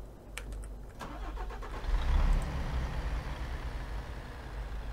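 A HIMARS rocket artillery truck in Spintires: MudRunner starts up: a few sharp clicks, then a deep engine crank that swells into a steady, loud rumbling idle, heard on its own without talk.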